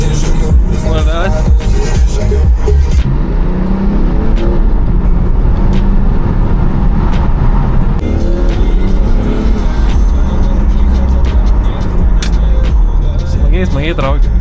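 A BMW 6 Series car accelerates hard with a loud, steady engine roar that fills the whole stretch, while people talk inside the car over the noise.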